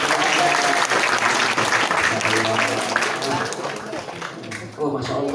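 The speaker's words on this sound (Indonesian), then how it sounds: "Tepuk tangan dulu" Audience applause at a Ramadan study session held at a junior high school, a dense, sustained burst of clapping from many students that tapers slightly toward the end, with voices mixed underneath.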